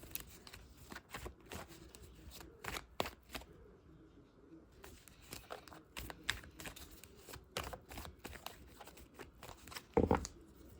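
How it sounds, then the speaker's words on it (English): Tarot cards riffled and pulled from a deck, a run of quick soft snaps and flutters with brief pauses, close and fairly quiet, ending in a sharper flick near the end. "let me go ahead and pull some cards of advice"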